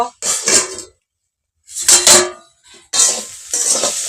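A spoon stirs banana stem curry in a pan, three short bursts of scraping and clattering metal close by, with quiet gaps between them.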